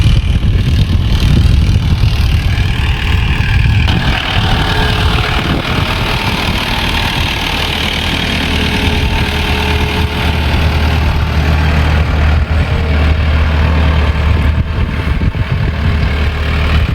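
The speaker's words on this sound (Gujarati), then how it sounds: "એટલે ટ્રેક્ટર આવે તો ગોળ ગોળ ફરી જશે ને આખા ખેતરનું કામ કરી જશે એમ" Tractor engine running while leveling a farm field with dumped soil, a loud continuous low rumble close by with steady droning and no speech.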